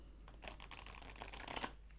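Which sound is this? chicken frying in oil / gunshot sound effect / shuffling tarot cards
shuffling tarot cards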